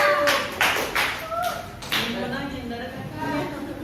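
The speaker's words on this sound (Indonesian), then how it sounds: "Berikan tepuk tangan untuk temannya" Classmates applaud a presenting group during a micro-teaching classroom session: a few sharp, uneven bursts of hand claps in the first two seconds, then scattered taps and quiet murmuring voices.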